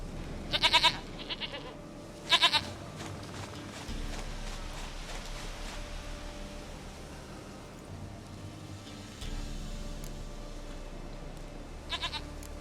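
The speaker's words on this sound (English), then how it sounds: "Goat of mine! Dearest, sweetest goat!" A goat bleats in The Witcher 3: Wild Hunt, with short loud bleats in bursts near the start, a few seconds later and again near the end, over a steady outdoor ambience of soft clopping and wind.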